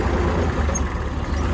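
A Kubota GL220 tractor with a loader runs its engine steadily, a low close diesel rumble with no voices.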